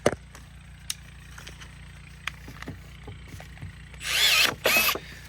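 A Milwaukee M12 cordless pruner bites through a branch just under an inch thick, giving two loud bursts of cutting noise near the end, after quiet handling sounds and faint clicks.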